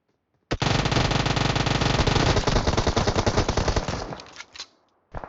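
Automatic gunfire in PUBG Mobile rattles as a fast, loud, continuous burst lasting several seconds, then trails off into a few scattered shots, with no voices over it.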